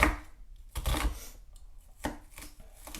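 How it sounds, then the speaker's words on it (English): An onion is chopped with a knife on a cutting board, several bursts of quick, close knife strikes separated by short pauses, clear and fairly loud with no talking. "right now I'm just chopping up one onion to go in"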